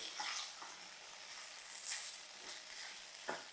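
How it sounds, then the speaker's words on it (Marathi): Diced potatoes sautéing in hot oil for a Konkan-style Krishna Janmashtami offering, giving a steady soft sizzle throughout with a few brief stirring scrapes, fairly quiet and with no voices. "बटाटी अशी बघा तेलात अशी परतून घेतली"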